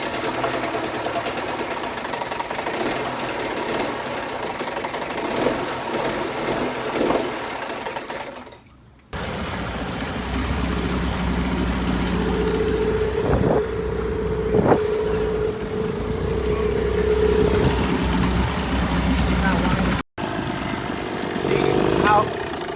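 A 1980 Chrysler Sea King 15 hp outboard motor runs with a rough, buzzing chatter, cuts out briefly, then restarts and keeps running, loud and close, with voices talking over it at times.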